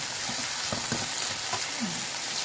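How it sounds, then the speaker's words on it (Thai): Mushrooms stir-fry in hot oil in a pan on a small picnic gas stove, a constant close sizzle broken by a few soft scraping stirs, with no talking. "เราจะผัดเห็ด ให้เหลือง ให้หอมก่อนค่ะ"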